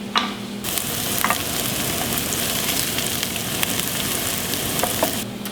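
Onions and garlic fry in a pan with a steady, close sizzle throughout, broken by a few brief clicks and scrapes of stirring.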